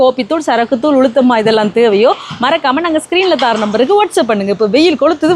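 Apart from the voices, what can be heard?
No everyday noise stands out behind the speech.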